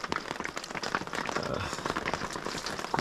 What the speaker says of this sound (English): It rained all night, non-stop.